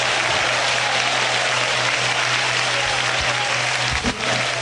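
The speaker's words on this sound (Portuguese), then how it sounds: "alegre as palmas para Cristo." Steady, continuous applause from a church congregation clapping together during a vigil service, with a faint low hum running underneath.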